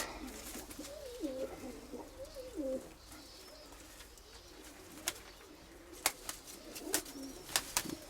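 Pigeons coo in soft, warbling phrases at the start, followed by scattered sharp clicks and taps in a quiet setting.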